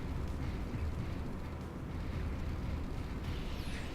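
A battleship is destroyed in a sustained, low rumbling explosion that roars steadily for several seconds in the space strategy game Stellaris, with a faint sweeping tone near the end.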